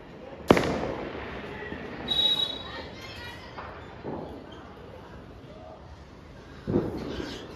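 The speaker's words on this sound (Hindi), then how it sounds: "पटाखों की आवाजें आ रही है मस्त।" Four or so Diwali firecracker bangs pop at irregular intervals in Nathdwara, India, sharp and somewhat distant, echoing over a steady outdoor hiss.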